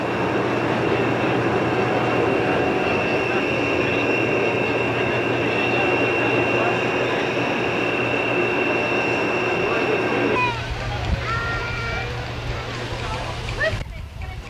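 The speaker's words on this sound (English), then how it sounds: "More train stuff." A train on the Strasburg Rail Road in 1987 rumbles steadily nearby with a low droning hum and rattling, then the noise drops away, leaving faint squeals and background sound.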